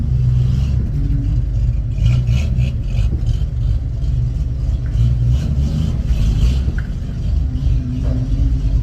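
Ford F100 truck with a freshly tuned carburetor and power plate, its engine rumbling steadily from inside the cab while driving, with a loud, continuous low drone and small swells in revs.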